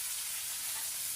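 Onion sizzling in hot oil in a home kitchen pan for Chennai-style Sunday cooking, a steady bright crackling hiss that holds even and close for the whole moment, no voices over it.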